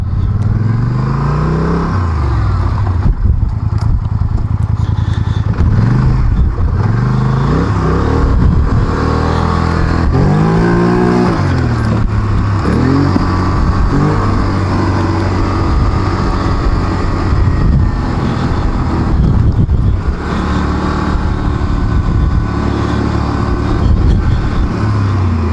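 Quad ATV engines drone loudly as the machines ride off-road near Oliver, BC, with a continuous close engine roar that rises and falls in pitch as the riders throttle up and ease off.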